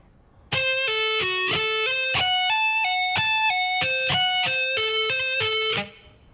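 Distorted electric guitar plays a shred lick at a slow tempo, a steady stream of clear picked and pulled-off notes stepping up and down in pitch, loud and close, then ringing briefly before stopping.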